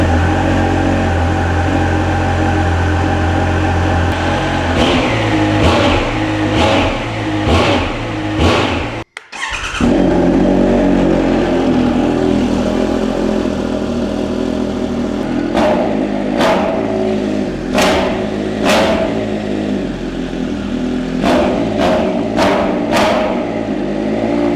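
Rebuilt Triumph Super Naked motorcycle engine with an exhaust cover: a loud, steady mechanical rumble punctuated by a series of sharp throttle blips, one brief dropout partway through, then more spaced blips.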